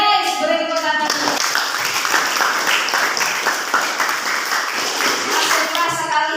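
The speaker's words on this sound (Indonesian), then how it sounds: "Yes, beri tepuk tangan." Classroom of vocational aviation school students clapping together, a dense, lively burst of applause sustained throughout, with voices audible at the start and end.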